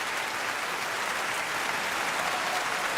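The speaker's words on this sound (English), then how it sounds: "Let me throw the big hand claps." A crowd applauds during a live show, giving a continuous even wash of hand claps at steady volume, with no voices over it.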